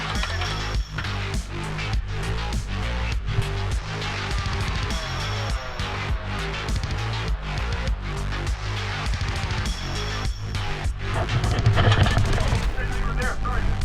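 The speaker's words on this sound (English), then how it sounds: "Matthew, we're being fired at." Airsoft guns fire during an outdoor airsoft game in rapid, sustained volleys of sharp cracks and pops that overlap densely and continue throughout, with faint voices mixed in.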